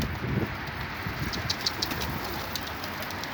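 A female yellow-type pigeon gives soft, low cooing calls nearby, a few faint murmurs over a steady background hiss.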